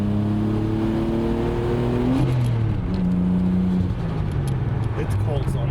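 All-wheel-drive car with an RB20 engine, driven gently on a cold day, its engine note climbing and dropping through light revs, close up, with people talking over it.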